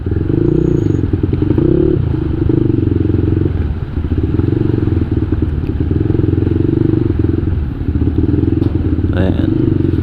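A scooter engine drones steadily as it rides through a flooded street in Barangay Santo Cristo, Malolos City, during monsoon rains, with water splashing and clattering up close for the whole stretch.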